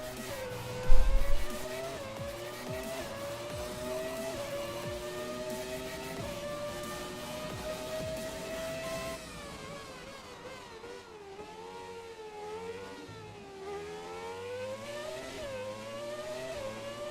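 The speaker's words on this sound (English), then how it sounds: "We're going back into the hairpin. It's such a tight corner." A classic Formula 1 car in the F1 2017 video game takes the tight Monaco hairpin. Its high-pitched engine whine drops as it slows through the corner, then climbs again as it accelerates away, loud and alone.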